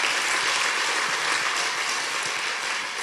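Church congregation at a Christmas-season service giving a praise clap, a loud, dense, continuous burst of many hands clapping at once, sustained evenly throughout.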